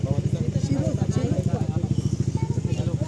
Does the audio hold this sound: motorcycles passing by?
yes